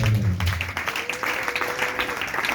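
A church congregation breaks into applause with a dense patter of clapping that stays fairly even throughout, after a brief voice at the very start.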